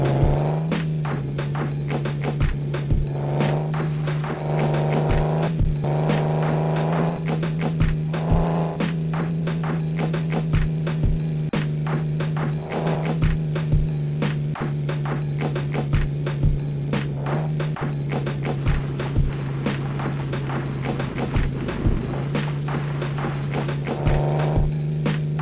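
A quad bike engine in an off-road racing video game holds a steady loud drone, broken by repeated sharp knocks and clatters from bumps and impacts, with no speech.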